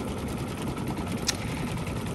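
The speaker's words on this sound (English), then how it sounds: "I am quilting this wall hanging on my my Brother 8500D, which is a dream machine." A Brother 8500D embroidery machine quilting a wall hanging gives off a steady, fast mechanical whir with a fine rapid stitching rhythm, continuous and close.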